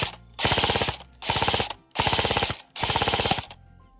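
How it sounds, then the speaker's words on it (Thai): An HK416D airsoft rifle, an E&C 102S Gen3, fires four rapid full-auto bursts, each a loud buzzing mechanical rattle under a second long, separated by short pauses. "ยิงให้ยิงเป็นชุดนะครับสำหรับมือใหม่ที่ยิง"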